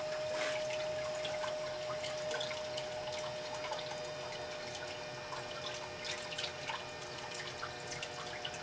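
A 1,000 gallon per hour bilge pump serving as an ROV thruster, its impeller turning in its original casing, churns water steadily with a faint motor whine, close and continuous without talk.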